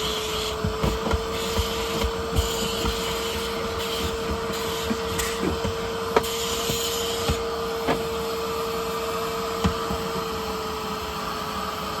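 A Bissell Little Green HydroSteam cleaner runs with a loud, steady motor whine and suction hiss while cleaning the carpet of a BMW E36, with scattered knocks and scrubbing bumps under the drone.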